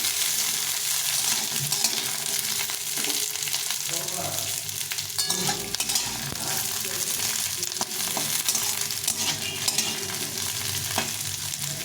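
Chopped potato, carrot and green peas sizzle loudly in a frying pan while being stirred, giving a steady hiss with scattered scraping strokes and light clatters of the utensil, and no voices present.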